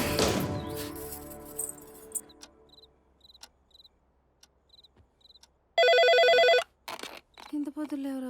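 A mobile phone rings with a series of short, high repeated beeps, then a loud sustained ringtone burst. Voices talk around it.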